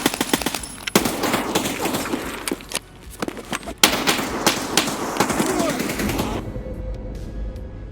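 Gunfire in Escape from Tarkov: rapid bursts and single sharp shots crack loudly in clusters, with brief pauses between volleys, ending in quieter ambience.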